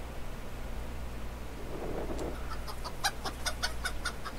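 Chickens in a coop in modded GTA, a rooster and hens clucking in a quick run of bright repeated notes, growing after a brief rustle over steady background hiss.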